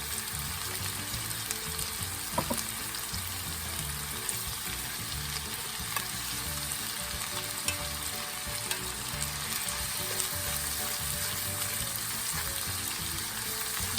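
Ground meat and onions frying in a pan give a steady, dense sizzle and crackle with occasional stirring scrapes, close and continuous with no voices.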